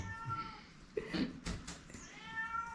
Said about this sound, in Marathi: तू बघा मांजर ओरडतो बाहेर त्याला वास आला निवट्यांचा